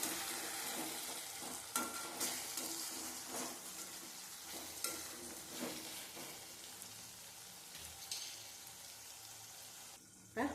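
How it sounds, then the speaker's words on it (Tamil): Chopped tomatoes and shallots sautéing in a pan give a quiet, steady sizzle broken by occasional scraping and knocking stirs, with one louder clatter at the very end. "இப்போ தக்காளியும் நல்லா குலைவாக வதங்கிருச்சு"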